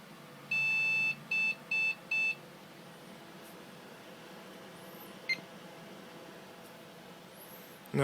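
A computer BIOS on a Rampage IV Extreme motherboard gives four short electronic beeps in quick succession, followed by silence and a faint click.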